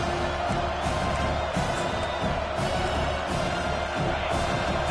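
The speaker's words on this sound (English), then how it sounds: "Decibels rising as the crowd gets behind this defense on third down." A stadium crowd at an American football game roars steadily on third down, a dense, sustained wash of cheering and noise heard from within the stands, loud and continuous throughout.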